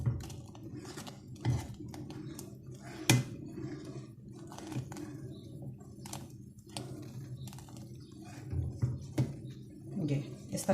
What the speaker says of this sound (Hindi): और चमचा चलाते रहना है।